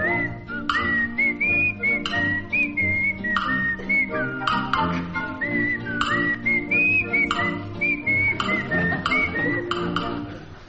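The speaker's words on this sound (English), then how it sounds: "He's whistling to himself." A little wooden figure walking down a path whistles a bright, lilting tune, the melody rising and falling in clear phrases over a steady musical accompaniment throughout.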